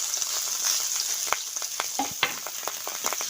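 Fish roe sizzling as it fries in hot oil in a pan for a garlic folui fish dish, a steady close crackle with scattered sharper pops and spits, no voices.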